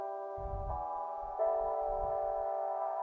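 A piano in a future house production, filtered to a thin, narrow telephone-like tone, holding sustained chords that shift twice, with a soft low thumping pulse underneath and no voices.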